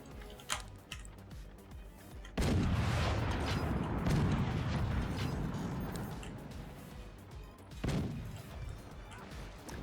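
Cannons firing in the strategy game Forts: a heavy booming blast hits suddenly and rumbles on for several seconds, followed later by another sharp report, with quieter clicks and ambient game sounds around them.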